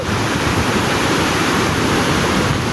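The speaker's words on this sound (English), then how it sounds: "That is a waterfall, everyone." Lata Iskandar waterfall in the Cameron Highlands, Malaysia, pours as a dense, constant rushing roar, loud and unbroken throughout, with no talking.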